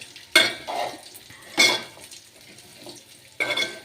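Coconut chutney ingredients fry in oil in a pan with tamarind, heard as three sharp bursts of stirring and scraping over a faint sizzle, with quieter gaps between them.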